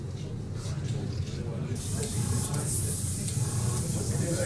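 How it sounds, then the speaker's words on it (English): An airbrush sprays paint for plastic scale models, a close steady hiss that grows stronger and brighter partway through, with faint background noise beneath. "Okay, there's your airbrush."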